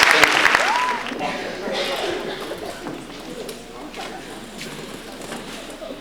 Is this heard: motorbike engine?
no